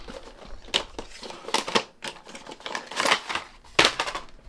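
A Star Wars Black Series action figure is pulled out of its cut-open plastic and cardboard packaging, giving close, irregular crinkling, clicking and scraping bursts throughout, with no talking.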